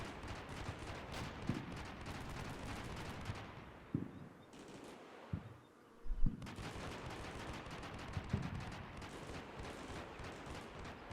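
Sustained automatic gunfire with heavy Mark 19 grenade launcher bursts in the war game Combat Mission Shock Force 2, rapid dense rattling broken by sharper thumping impacts and a brief lull before the firing resumes loudly.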